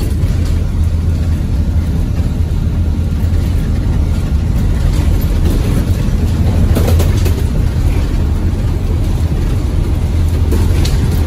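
A heavy low rumble from a road vehicle fills the whole stretch at steady loudness, recorded from inside a bus as a truck goes past, with no talk heard.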